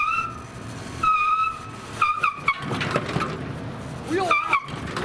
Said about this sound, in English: wants to just smoke the tire